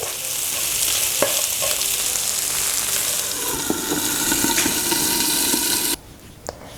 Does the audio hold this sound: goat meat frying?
yes